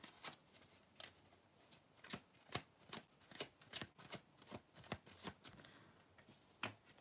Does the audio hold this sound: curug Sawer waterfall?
no